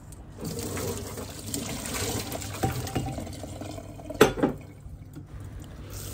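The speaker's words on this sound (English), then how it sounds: "Drain the water." Water pours and splashes steadily as it is drained from a pot after boiling a peach, with a brief clatter of the pot partway through and a continuous running-liquid rush throughout.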